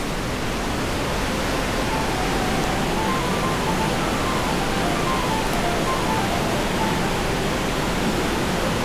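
A small waterfall in Partnachklamm gorge, Germany, roars as a steady, dense wash of falling water, close and loud throughout, with no voices.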